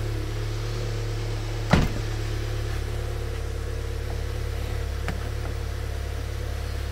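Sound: cold MK7 Golf GTI engine running

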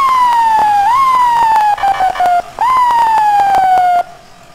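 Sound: FDNY Dodge ambulance EMS siren in a video game

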